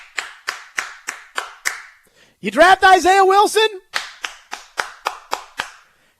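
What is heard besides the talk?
audience clapping at NFL draft picks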